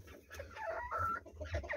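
Pet chickens, roughly four months old, cluck softly nearby in a short burst of several quick, rising calls over a low background rumble.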